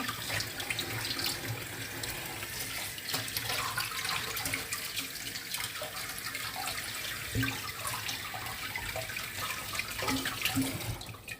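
Tap water runs steadily into a sink while raw pork ribs are rinsed under it, a continuous close splashing rush with small clatters, and no one speaks.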